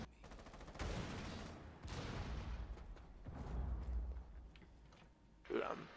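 Gunfire in the game Rainbow Six Siege, with bursts of shots and rapid rattling fire over several seconds, loud and close at times and partly mixed with voices talking.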